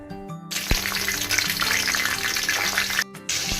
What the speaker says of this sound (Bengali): তেল গরম হয়ে গেছে এবার আমরা দিয়ে দিব পাঁচ ফোড়ন তেজপাতা ও আট নয়টা কাঁচা লঙ্কা